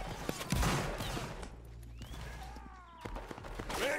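Musket volleys from lines of soldiers in the Roblox Napoleonic Wars game crack out in a few heavy, broadband bursts over a busy, rumbling battlefield background.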